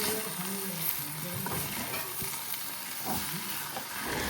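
Boiled jackfruit vegetable seasoned with sesame is stirred and sautéed in a pan, making a soft continuous sizzle broken by spatula scrapes and tosses at a moderate distance.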